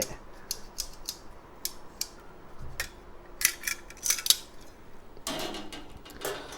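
Steel tray, grill grate and tongs from a Coleman charcoal camping stove being handled, giving scattered close metallic clinks, scrapes and creaks with quiet gaps between, and a longer rattling shuffle near the end.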